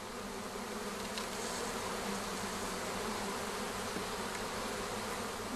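Honey bees at the hive make a dense, steady buzz that continues evenly throughout with no pauses.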